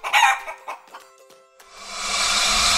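A few sharp, scattered bird clucks, then a steady hissing, rushing noise that continues to the end.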